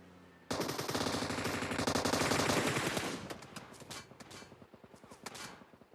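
Automatic gunfire in the video game PUBG Mobile: a long, rapid, continuous burst of shots that ends around mid-clip, followed by scattered single shots and impacts, loud and close with no talk.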